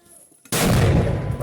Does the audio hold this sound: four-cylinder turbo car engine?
no